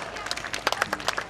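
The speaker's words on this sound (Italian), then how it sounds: "Adesso applauso per la donna di quadri al mio tre." Audience at an Italian folklore festival show in Lavello claps on a count of three for a magic act's queen of diamonds card, a short burst of scattered, close handclaps that swells into a few louder peaks.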